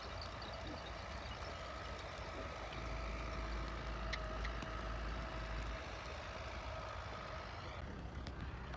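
A tractor runs steadily in farm fields after light rain, its engine a continuous mid-distance drone with a low rumble and no talking.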